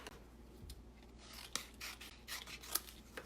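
Scissors trim paper for a Valentine card, faint close snips and rustling paper in a quick irregular series, with no talk.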